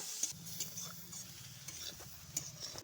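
Grated carrot sizzles softly in melted ghee in a pan for a rural-style carrot filling, with stirring scrapes and a few light clinks of a utensil over a steady low hiss.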